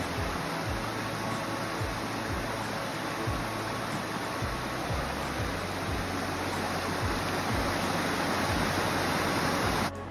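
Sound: creek water flowing

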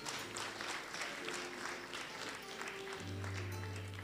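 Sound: congregation applause

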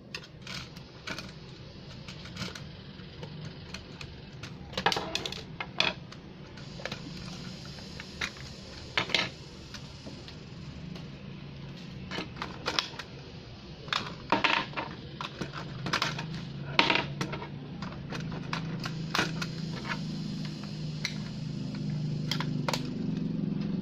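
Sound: unscrewing bolts on toy robot battery cover

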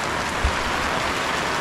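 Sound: rain falling in Wayanad, Kerala

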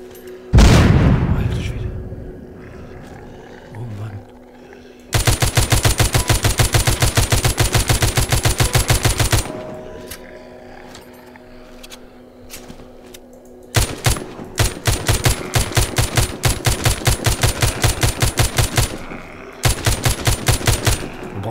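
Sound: gunfire and explosions in video game The Walking Zombie 2

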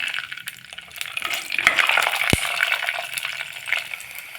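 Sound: fenugreek and cumin seeds spluttering in hot oil

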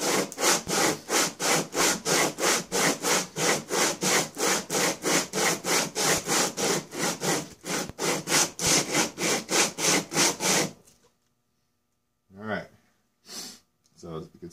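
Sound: sanding Polaris cylinder head flat on 80 grit sandpaper

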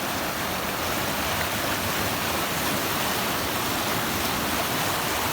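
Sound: ice-cold mountain stream flowing

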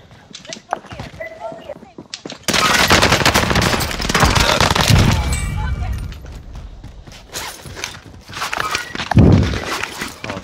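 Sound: gunfire from a video game

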